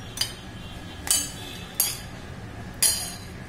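A bowl of almond cake batter gets four sharp, separate clinks, spaced about a second apart, as a second egg is added. The clinks are near and bright over a quiet background, with no talk.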